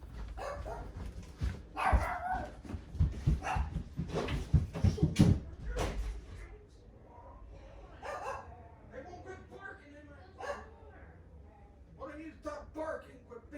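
Dogs bark in short bursts early on, loud and close, then trail off into scattered yips with a person talking over them in a room where wrestling action figures are being handled.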